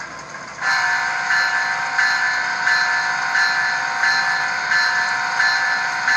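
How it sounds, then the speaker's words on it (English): An Intermountain ES44AC model locomotive horn blares through a small speaker, a steady sustained tone that starts after a brief quiet moment and holds with a faint pulsing to the end. "Let's hear the horn"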